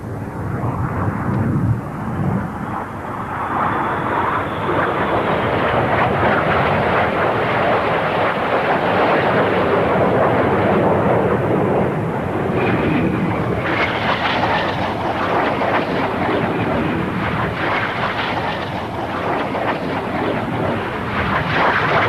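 Military jet aircraft flying and banking overhead, a loud continuous roar with wind rush that swells and shifts over about twenty seconds, with no talk over it.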